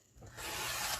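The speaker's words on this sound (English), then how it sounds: "I'm just going to cut 1, 2 lines of cards" A paper trimmer slicing through cardstock for a simple pop-up mini card, a brief, close, soft rasping swipe that rises after a quiet start.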